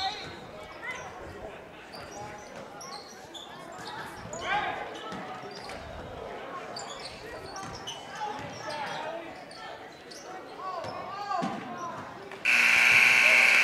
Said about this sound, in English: All right, there's the buzzer.